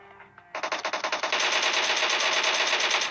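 Close, loud automatic gunfire from an enemy team in an online shooter game, starting with a rapid rhythmic burst and then merging into a continuous sustained stream of shots.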